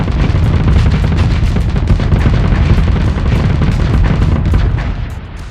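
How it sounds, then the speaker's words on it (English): Assault chain guns firing in the space combat game Starsector, a loud continuous barrage of rapid booming shots with dense rumbling impacts, close and sustained before easing off at the end. "Push your assault chain guns and punch through the armor."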